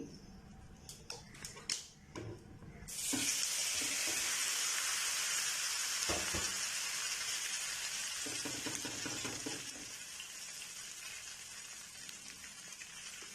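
Egg and potato frying in a pan of cooking oil, a loud steady sizzle that starts abruptly after a few clatters and continues throughout, with occasional utensil scrapes and bumps.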